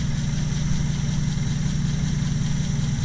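Triumph Spitfire engine running with a flooding Weber carburetor, a steady close idle with a low, slightly uneven pulsing drone and a faint high whine, no talk.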